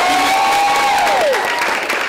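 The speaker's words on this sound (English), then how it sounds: "Give her a round of applause." An audience at a live comedy show gives a brief round of applause and cheering, a loud wash of clapping with a sustained whistle or tone gliding down through it.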